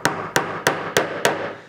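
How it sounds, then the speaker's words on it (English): Five evenly spaced hammer taps drive threaded inserts into a wooden kumiko jig through an old drill bit, each blow a sharp, close knock with a brief ringing decay. "Just want to knock them in there."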